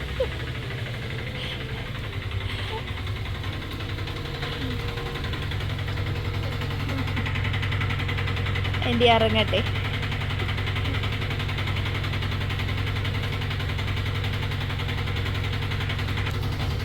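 An auto rickshaw engine idles close by with a steady low throb and knock the whole time. A person speaks briefly over it, and a short burst of sound cuts in near the middle.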